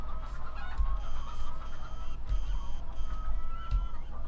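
Chickens in a coop building in the video game Farming Simulator 2015, Georgia USA map, clucking and squawking in short bursts over a steady low ambient hum, fairly close and moderately loud.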